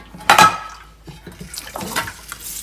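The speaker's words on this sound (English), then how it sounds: "rinse it out here." Tap water rinsing cooked garbanzo beans in a sink: a sharp splash first, then uneven spattering and sloshing, close and moderately loud.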